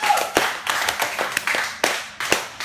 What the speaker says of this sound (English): Let's give these guys a round of applause for leading us.